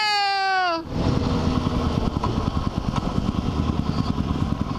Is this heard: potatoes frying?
no